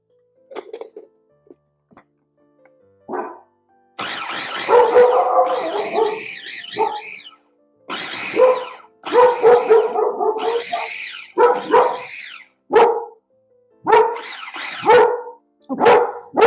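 A house dog barks, yips and howls in bursts from a family room, loud and close with short silent gaps between the calls, heard alone without any talking.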